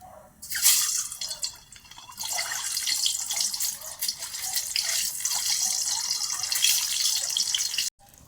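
Boiled eggs frying in hot oil in a pan: a dense, crackling sizzle bursts up suddenly and holds steady and close, then cuts off near the end, with no talk.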